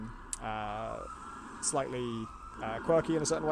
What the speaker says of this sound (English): I apologize for the sirens.